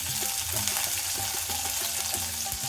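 Chopped garlic frying in hot oil in a home kitchen pan, a steady close sizzle with crackling pops throughout, loud and continuous with no talking.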